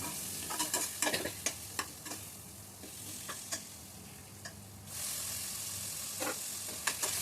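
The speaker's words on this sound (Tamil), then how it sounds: "இஞ்சி பூண்டு விழுது பச்சை ஸ்மெல் மாறுற வரைக்கும் நல்லா வதக்கிட்டு நம்ம வெட்டி வச்சுருக்கிற தக்காளியை இதில் சேர்த்துக்கணும்." Ginger garlic paste and tomatoes for chicken biryani fry in a pan with a steady sizzle and repeated crisp scraping stirs, close and clear, with the sizzle swelling louder near the end.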